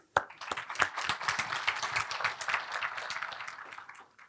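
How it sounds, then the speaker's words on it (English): Audience applause in a lecture session, starting with a sharp clap and swelling into lively mixed clapping that gradually thins out over a few seconds. "I think I'm going to do an applause for you."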